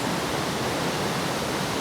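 A small waterfall tumbling into a stream in the Adirondacks, a steady, close rush of falling water that fills the whole moment evenly with no voices.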